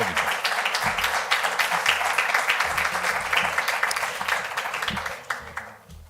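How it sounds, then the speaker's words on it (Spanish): Audience applause welcoming a speaker at a youth colloquium in Asturias, a dense sustained round of clapping that gradually thins and fades toward the end, with faint voices underneath. "por favor, le recibimos con un fuerte aplauso"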